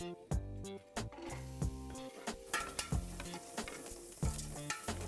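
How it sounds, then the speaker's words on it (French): Shallots and onions sautéing in butter for a risotto sizzle softly under a regular rhythm of stirring scrapes and knocks against the pan, heard close and fairly faint. "Nous allons faire revenir les échalotes et les oignons."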